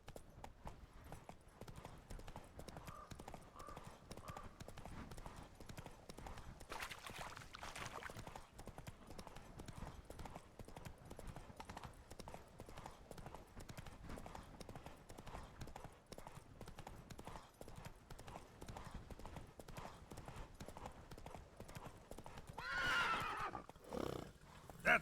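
Roach, the horse in The Witcher 3, gallops with continuous hoofbeats and neighs a few times, the clip-clop fairly quiet and steady, with a louder whinny near the end.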